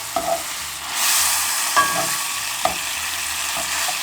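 Cooked noodles go into a sizzling sauce in a pan, giving a soft hiss with a few clinks and stirring scrapes, close and fairly quiet, with no speech.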